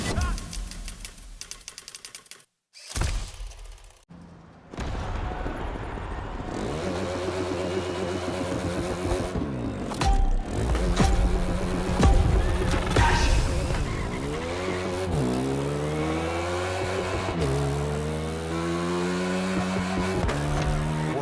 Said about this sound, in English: You get on that bike, driver, and you give me a two-wheeled concerto